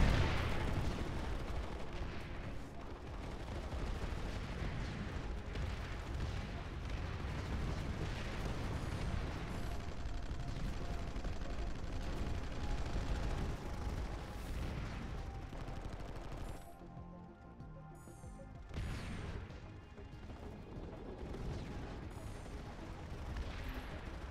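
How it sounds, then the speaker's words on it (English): Rolling grenade blasts and heavy gunfire in the large-scale shooter Planetside 2, a dense, continuous battle roar of booms and shots that eases briefly near the end before building again. "Throw your grenades, dump your grenades."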